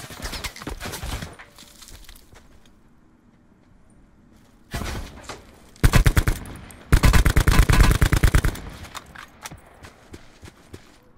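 Automatic gunfire in the game Call of Duty Blackout, with scattered quieter shots, then loud close bursts of rapid fire in several volleys around the middle, tapering to distant pops.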